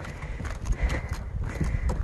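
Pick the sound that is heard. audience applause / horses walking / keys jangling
horses walking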